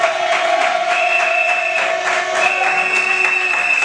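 Guests applaud a newly married couple right after a civil wedding ceremony: steady, continuous clapping from a crowd, fairly loud throughout, with sustained tones running underneath.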